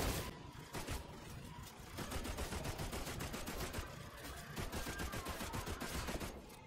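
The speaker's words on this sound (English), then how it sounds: "Hit him with the heavy machine gun, then finish him off" Sustained heavy machine gun fire in Destiny 2, a rapid, dense stream of loud shots with a brief lull near two seconds before the burst resumes and carries on steadily.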